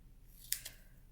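Scissors trim small floral planner stickers with two quick, faint snips close together over a quiet room hum.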